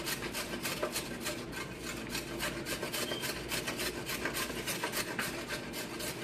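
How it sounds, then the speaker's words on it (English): Peeled carrots grated on a cheese grater in a kitchen: a continuous, rhythmic rasping of quick back-and-forth strokes, close and steady throughout. "You're going to do them in a cheese grater."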